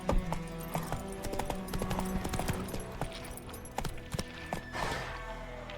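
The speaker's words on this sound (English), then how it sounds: "Whoa there, Roach" Hooves of a horse in The Witcher 3 video game clip-clop in a quick, steady rhythm over a continuous game soundscape, close and clear, slowing toward the end.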